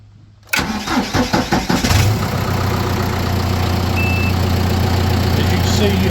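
A John Deere 5100E tractor diesel engine cranking in a few quick chugs, then catching and settling into a steady, loud, close idle that runs to the end, with a brief high beep partway through.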